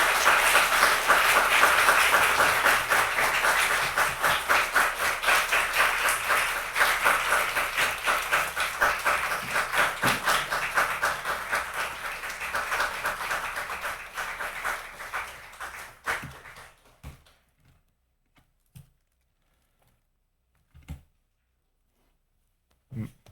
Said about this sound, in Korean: 박수 많이 쳐주셔서 감사합니다.